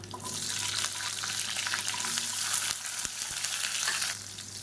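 Whole small onions fry in hot oil with mustard seeds and curry leaves for a Chettinad green chilli gravy, a close, steady loud sizzle with a couple of brief stirring knocks and no talking.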